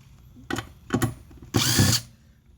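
A power screwdriver backs screws out of the cover of a Korean-made Crossfire Audio XT 16K-watt car amplifier, with two short whirring bursts and then a longer one, close and clear in a quiet room.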